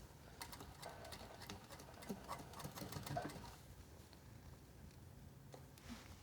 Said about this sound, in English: So I'm just making sure that's out of my way as I sew further down.